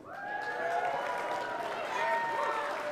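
A crowd cheers and whoops for children running in place, with voices calling out over the loud, steady cheering and some scattered clapping.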